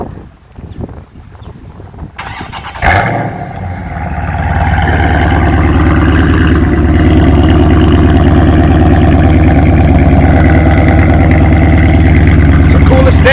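Sports car engine at an autocross start, revving up and holding a loud, steady high-load roar after a brief quieter moment, with heavy wind buffeting on the microphone.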